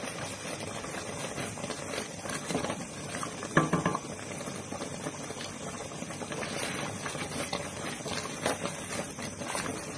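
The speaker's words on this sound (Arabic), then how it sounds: "خلينا نقلب كده، نقلب نقلب تقليب جامد" Peanut halva mixture for red Mawlid sugar dolls being stirred hard in a cooking pot, with roasted peanuts in it, giving a steady bubbling, scraping churn that runs the whole time with a brief louder knock partway through.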